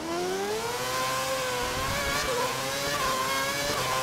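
Formula One race car engines at the Shanghai Grand Prix, a sustained high-pitched whine rising and falling in pitch as the cars pass, loud and alone.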